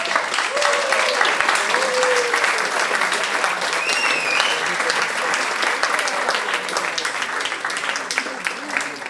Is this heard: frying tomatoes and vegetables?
no